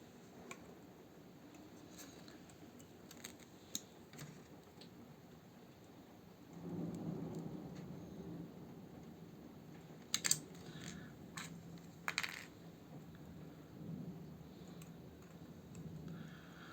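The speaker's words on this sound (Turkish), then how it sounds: "dışarıda da çok güzel bir yağmur var. Gök gürültülü." Steady rain falls outside while a low rumble of thunder rolls in partway through, with a few sharp nearby clicks and taps.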